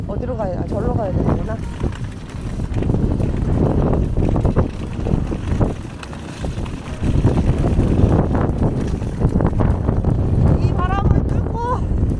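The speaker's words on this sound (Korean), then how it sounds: "여기 바람 보이시나요?" Strong wind blusters outdoors at a country cafe, a loud, steady roar of wind buffeting the microphone throughout.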